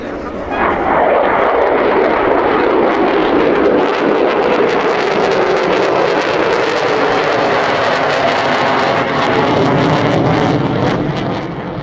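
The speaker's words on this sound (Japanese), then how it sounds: "800km/h で旋回を実施します。" An F-2 fighter jet making a high-speed turn at around 800 km/h during an air show display at Air Festa Hamamatsu, a loud continuous roar with a sweeping tone, heavy wind buffeting on the microphone.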